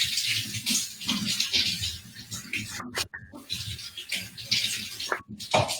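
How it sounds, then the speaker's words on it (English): Cold tap water runs into a kitchen sink while large leeks are rinsed through their layers, a steady broadband splash with brief interruptions as the stream is disturbed, fairly close and continuous. "you want to stick this under the sink and run cold water through it as you go through the layers of it"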